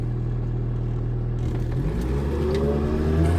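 A 2013 Ford F350 with a 6.7 Powerstroke diesel, EGR/DPF deleted and tuned, idles loudly up close, then revs up in a rising, sustained climb out in the countryside.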